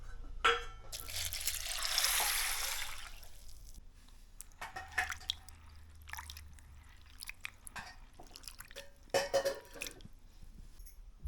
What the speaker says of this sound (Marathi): हे पहिल्यांदा स्वच्छ धुवायचे आपल्याला पाण्याने